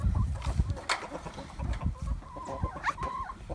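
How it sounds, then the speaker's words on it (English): A rooster on a farm during afternoon chores clucks and squawks in short, close bursts, mixed with scuffling and handling noises nearby. "the rooster ran right up to his leg and just stared at him"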